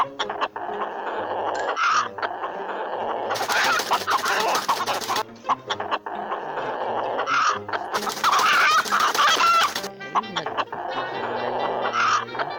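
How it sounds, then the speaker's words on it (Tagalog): Red and white roosters fight in the Manok na Pula mobile game, with repeated loud electronic clucks and crowing squawks and bursts of broadband scuffling noise, continuing steadily throughout. "manok na pula versus manok na puti"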